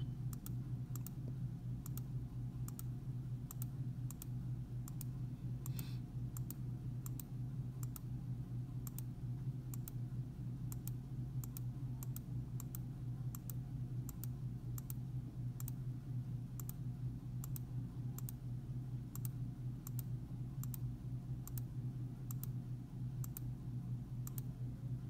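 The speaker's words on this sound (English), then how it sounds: "I'm just gonna click through really fast until I get to the very first video." Computer mouse clicking rapidly through a slideshow: a long run of sharp, close clicks at a fairly regular pace over a steady low computer hum, with no talk.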